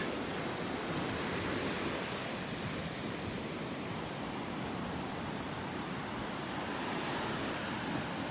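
Ocean surf on a Gulf beach in North Naples, Florida, near Delnor-Wiggins Pass State Park, makes a steady, continuous wash of breaking waves with no talk.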